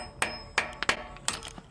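A hammer strikes an Allen wrench set in a Corvette lowering bolt to break it loose: about five sharp metallic clanks at a quick, uneven pace, close and loud, with no talking.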